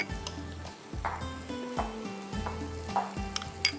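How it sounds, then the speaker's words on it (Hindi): Shredded cabbage frying in a hot pan on a stove, a loud sizzle with stirring scrapes and occasional clinks of a utensil against the metal over nearly four seconds. "यहाँ पर है मेरे पास बंद गोभी, ये डाल देते हैं। ठीक है, बंद गोभी हमने डाल दी।"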